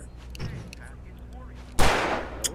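Gunfire in the video game Alan Wake: a single sharp, loud shot bursts out near the end over a low ambient rumble, followed shortly by a smaller crack.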